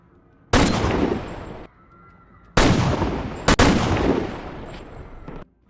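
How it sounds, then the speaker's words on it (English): Gunshots in a Jack Reacher movie scene, loud sharp cracks with long ringing decays, one at first, then a close pair a second later, each followed by a tail of reverberation. "Without any reason, he immediately shoots at 5 random people."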